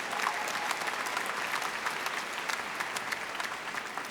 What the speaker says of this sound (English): another round of applause for Danielle